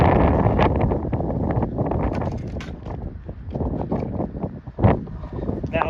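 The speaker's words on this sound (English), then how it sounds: "let's go back in because it's too windy out here" Heavy wind buffets the microphone in loud, rumbling gusts, with a few sharper bursts near the end.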